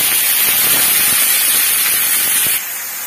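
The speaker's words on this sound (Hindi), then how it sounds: "तो ये अच्छे से चटक गया है, अब मैं इसमें साग डाल देती हूँ।" Radish greens (saag) dropped into hot tempered oil in a home kitchen pan: a loud, continuous broadband sizzle and hiss that stays steady, then eases slightly near the end.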